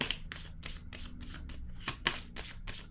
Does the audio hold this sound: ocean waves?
no